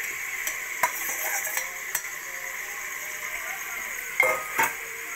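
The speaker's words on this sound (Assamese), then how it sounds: "লৰাই দিম এতিয়া সেম মানে মাংসখিনিও দি দিছো" Chicken meat with small potatoes stirred in a cooker over a high gas flame, a steady bright sizzle with scattered spoon clinks and two louder scraping strokes near the end.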